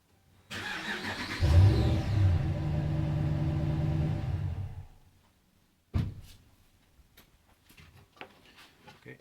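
A Dodge Ram truck engine cranks and catches, then runs steadily at a medium idle for several seconds before shutting off abruptly, followed by a door-like thump and faint clicks.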